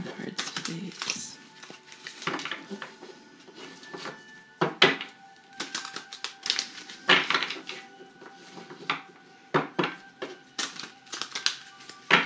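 Tarot cards are shuffled and drawn by hand: irregular soft slaps, taps and riffling clicks close by, while a voice talks over them.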